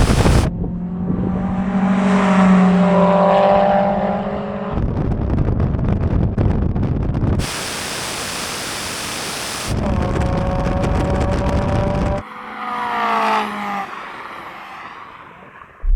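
Turbocharged Mazda Roadster MX-5 accelerating hard off the line in a drag race, a loud rising engine roar with gear changes and bursts of wind buffeting across the run.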